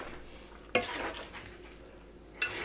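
Pork dinuguan stew being stirred in a pot, with two sharp clinks of a utensil against the pot and a steady soft simmering hiss between them, close and fairly quiet.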